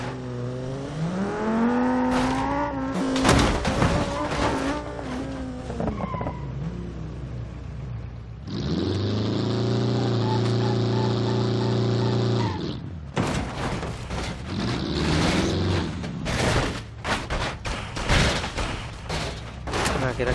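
Game car being towed by a chain or hitch in BeamNG.drive, with a steady engine drone and mechanical whir, clanks and impact bursts throughout, fairly loud and continuous under a voice talking.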